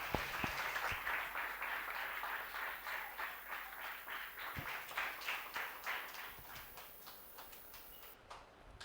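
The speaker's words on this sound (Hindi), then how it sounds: "तालियों के साथ उनका स्वागत किया जाए" A congregation claps steadily, almost in rhythm, to welcome a preacher at a Good Friday church service. The dense, even clapping runs throughout and cuts off abruptly at the end.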